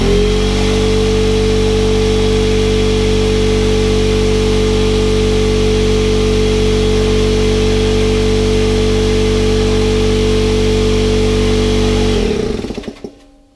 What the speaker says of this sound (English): Next, I'm going to compare it to the sound of the big air compressor.